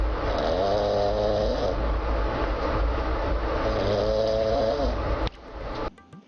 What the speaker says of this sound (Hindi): आती हैं इसकी खर्राटे की आवाजें।